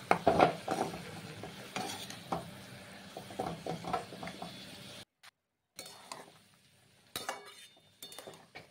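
Vegetables being stirred in a pan over a low gas flame, cooked slowly without water, with a spoon scraping and clinking against the pan in uneven bursts and faint sizzling, broken by a short silence midway.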